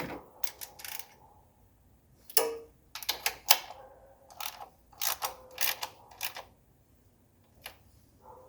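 A ratchet wrench clicks in short bursts while a valve cover is tightened by hand on a 1979 Mercedes 300SD, with quick ratcheting runs separated by pauses and a quiet background.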